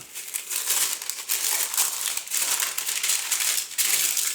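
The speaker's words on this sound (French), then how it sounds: "On prend la mesure et avec des ciseaux, on coupe." Baking paper being cut with scissors for a cake tin, a steady run of close, dry crinkling and rustling with brief snips, no talking.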